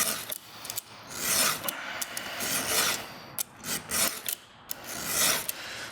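A file rasping across a chainsaw chain's cutters to sharpen them, steady close scraping strokes repeating with brief pauses between, no voices.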